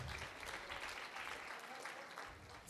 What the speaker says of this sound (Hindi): सदन से बोलूँगा तालियों की बौछार करें